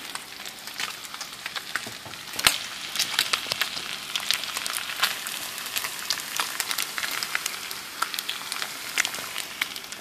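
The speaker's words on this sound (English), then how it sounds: "I have turkey bacon going." Turkey bacon frying in a pan at brunch, a soft steady sizzle dotted with frequent small pops and crackles, moderately quiet and close.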